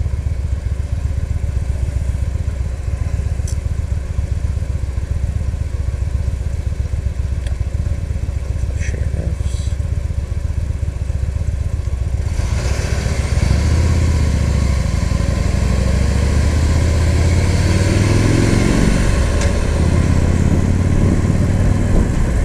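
A Victory Highball motorcycle engine rumbles while riding on the road, a steady low throb that swells louder partway through as the bike accelerates, with wind noise and no talking.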